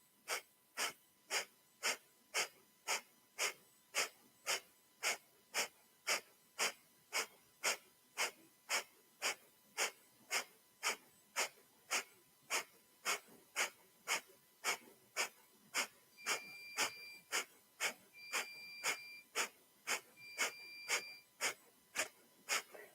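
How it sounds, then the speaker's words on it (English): Rapid rhythmic yoga breath of fire: steady, evenly spaced sharp nasal exhales repeating quickly for the whole stretch, close and fairly soft, with faint tonal chimes toward the end and no speech. "begin breath of fire"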